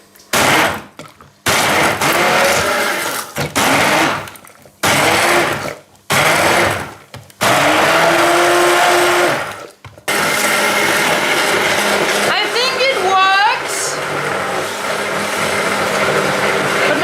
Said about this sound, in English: Now I blend it all with my very good blender